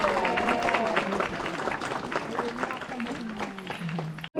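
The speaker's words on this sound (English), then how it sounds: "round of applause for our pups and our kennel staff" Applause from a gathered audience for sled dogs and their kennel staff at a Denali kennel, a steady wash of clapping mixed with crowd chatter and voices that carries on for several seconds before a brief drop.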